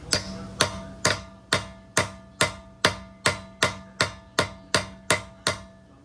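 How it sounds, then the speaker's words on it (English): Repeated hammer blows driving a socket onto a locking lug nut on a Honda wheel rim: a dozen sharp metallic strikes in a steady rhythm about every half second, each ringing briefly, close and loud, with no talking. "Just can't hammer it in there enough."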